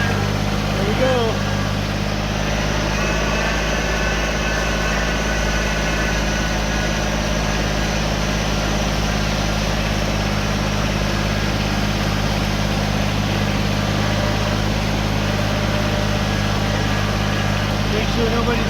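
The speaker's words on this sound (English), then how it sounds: "I'm taking the tractor ride from where we're working over to my house to get rocks." A tractor engine runs steadily throughout a short ride from a work site, a continuous low, loud drone with mechanical rumble and no pauses.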